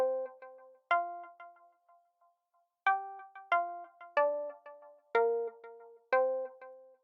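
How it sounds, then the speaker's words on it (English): Bright synthesizer plucks from Electra X play a short melodic pattern, each note sharp and quickly decaying, in rhythmic phrases with brief pauses between. "So it's a pluck in Electra X."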